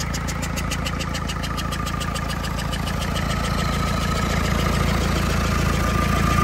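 A Nissan FD46 diesel engine runs on a test, idling with a steady, loud, close knocking rhythm and no voices.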